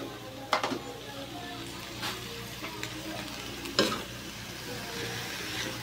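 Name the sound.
cabbage being stirred while frying in a pan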